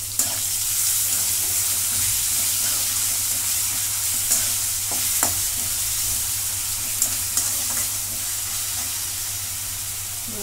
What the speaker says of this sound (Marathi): आता ही पेस्ट टाकून घेते,